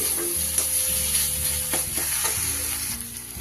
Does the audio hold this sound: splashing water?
no